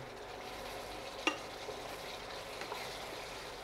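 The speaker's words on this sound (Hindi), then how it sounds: "मसालो धीरे हाथ से मायने तली रही है" Masala with chopped curry leaves frying gently in a pan for Marwari lauki gatte ki sabzi, a soft steady sizzle with light stirring and one brief utensil tap near the start.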